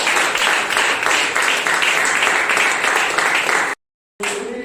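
A congregation at a prayer service with the Regina Pacis community in Togo claps together in praise: a loud, sustained wash of applause that cuts out abruptly near the end, then resumes briefly.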